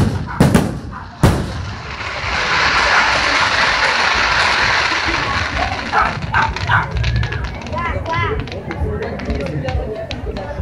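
Fireworks at the Festa di Sant'Anna open with two sharp loud bangs, then a long crackling roar of bursts, with a dog barking and people talking nearby.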